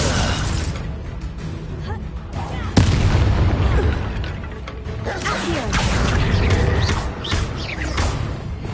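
The Incendio fire spell in the video game Hogwarts Legacy bursts with a loud booming crack partway through, set in a dense, rumbling battle mix of whooshes and impacts with a voice speaking over it.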